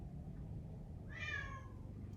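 A single short, quiet meow from a cat sounds over a low background rumble, rising and falling once in the middle.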